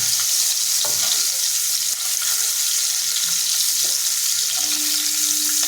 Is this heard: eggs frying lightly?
yes